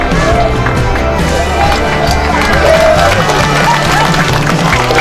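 An audience at a youth river-care community event gives lively applause, a dense and loud wash of clapping that runs for several seconds with voices mixed into the crowd noise.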